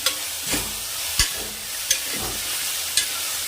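Chopped vegetables frying in oil in a pan, a steady soft sizzle with several sharp clacks of a spoon stirring at intervals, close and alone without talk.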